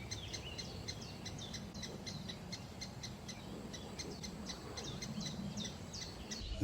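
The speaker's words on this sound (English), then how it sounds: "You might be able to hear the chicks calling" Lesser spotted woodpecker chicks call from the nest in rapid, repeated high chirps, faint and steady over a low rumbling background.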